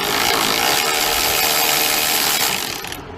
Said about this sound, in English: So all I'm doing here is just taking these 3 13mm nuts out.